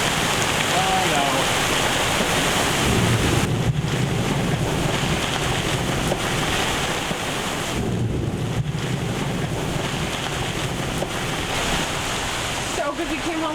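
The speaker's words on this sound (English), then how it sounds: "28 knots of wind." A sailboat in strong 28-knot wind and rain: a dense, continuous roar of wind buffeting the microphone, mixed with rushing water and rain, loud throughout with brief surges.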